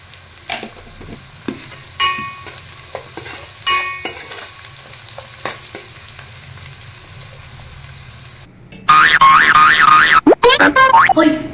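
Cashews and curry leaves go into a pan for a cashew chicken masala curry. Faint clinks and taps lead into a sudden loud, steady sizzle of frying in the final few seconds.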